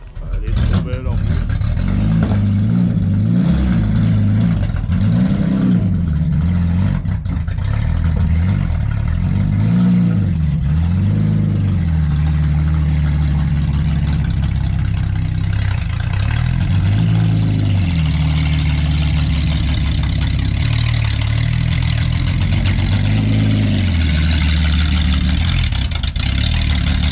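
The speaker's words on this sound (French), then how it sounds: "un V12 sans échappement" A white BMW 750iL E32 runs its V12 with no exhaust fitted, loud and raw, blipping through several sharp revs early on before settling into a rough idle, while people talk nearby.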